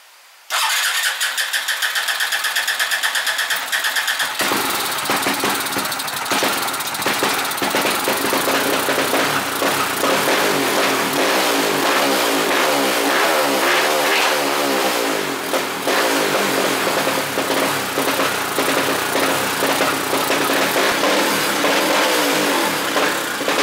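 An engine fitted with an N-Pro carburetor and running rich fires up and revs hard, holding a loud, close, rough roar for over twenty seconds with no talking.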